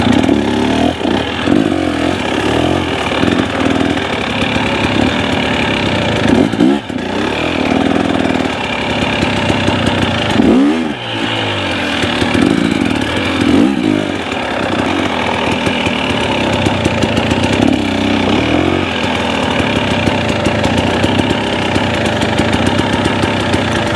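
A dirt bike engine, a Yamaha YZ or KTM, runs loud and close for the whole stretch, a steady throbbing idle that rises in short revs now and then, with no voices over it.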